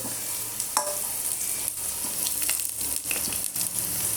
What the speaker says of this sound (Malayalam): നമുക്കിങ്ങനെ വറുത്തെടുക്കാം